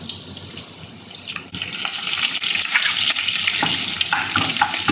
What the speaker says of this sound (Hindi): करी पत्ता डालकर थोड़ा सा फ्राई करेंगे।